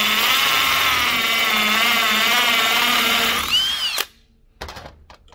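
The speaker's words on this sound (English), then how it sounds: "As we're going to take this tool with the drill," A power drill spins a swaging tool inside copper tubing, a loud steady whine with wavering pitch that slows and stops, followed by a few brief clicks and handling noises.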